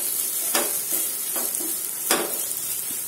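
Masala frying and being stirred in a pan, a close sizzle with several scraping stirs of the spoon at irregular intervals.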